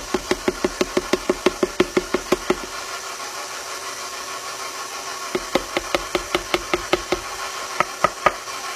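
A stand mixer beats flour into tres leches cake batter with a steady, fast, rhythmic knocking of the beater against the bowl over a motor hum. The knocking pauses briefly midway, then resumes at the same pace.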